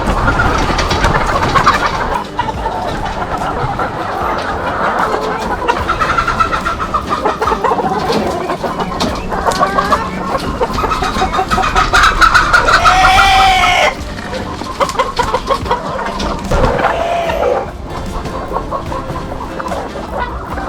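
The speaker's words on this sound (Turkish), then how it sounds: "Evet tavuklarımızı saldık." A dense flock of free-ranging village chickens clucks continuously and loudly nearby, with a rooster crowing out clearly partway through over the steady chatter.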